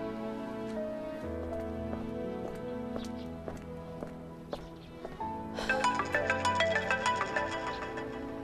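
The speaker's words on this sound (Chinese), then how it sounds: "毛丫丫，哼，你怎么想起来给我打电话了？" A mobile phone ringtone plays for an incoming call as a steady electronic melody of clear tones, soft at first and then jumping louder into a brighter, rhythmic phrase partway through.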